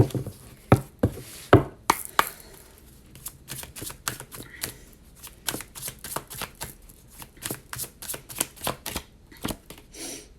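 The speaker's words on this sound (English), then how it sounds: "So let me pull some cards from my Awakening the Goddess here." Oracle cards from the Awakening the Goddess deck are shuffled in a long run of crisp, irregular snaps and taps, close by and fairly quiet.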